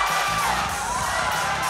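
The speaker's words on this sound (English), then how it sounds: "The crowd chanting his name." A dense, roaring crowd at a Muaythai title fight cheers and chants a fighter's name, a continuous wash of voices and shouts filling the whole moment, loud and with no single speaker standing out.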